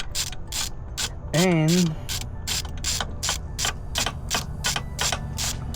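A ratchet wrench working on a 2004 Suzuki GSX-R 600 motorcycle near the spark plugs, rapid evenly spaced metallic clicks close up, with a brief spoken word partway through.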